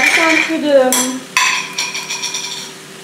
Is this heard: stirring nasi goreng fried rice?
yes